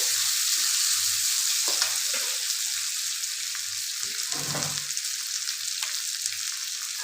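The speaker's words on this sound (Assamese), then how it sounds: "পিঁয়াজখিনি ৰঙচুৱা হোৱালৈকে মই ধুনীয়াকৈ ভাজি ল'ম।" Onions fry in a pan toward browning with a continuous close hiss of oil, broken by occasional stirring scrapes and clinks, steady and moderately loud with no voices.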